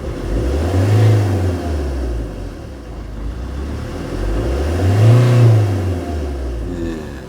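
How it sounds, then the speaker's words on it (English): A car engine, running again after a rebuild, revved with two gentle throttle blips that rise and fall smoothly over a steady nearby idle, heard alone without talk. "Just give it only a gentle blip on the throttle."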